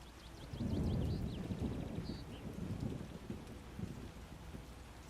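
Steady rainfall and low rolling thunder in The Witcher video game, a deep rumble swelling early then fading beneath continuous rain, with faint high bird-like chirps above.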